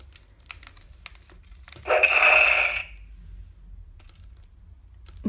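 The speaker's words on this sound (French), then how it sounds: "les bras se soulèvent et actionnent un bruit" A light-up articulated Superman action figure lets out one short, hissing electronic sound effect as its arm is raised, lasting about a second against a quiet background.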